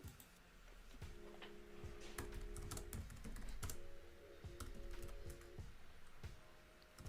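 Quick bursts of keystrokes clatter on a computer keyboard during a Linux kernel upgrade on a CentOS/RHEL server, close and fairly faint over a steady background hum with faint tonal beeps.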